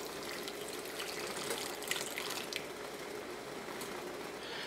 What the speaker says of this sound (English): And then I'm just gonna pour that in as well.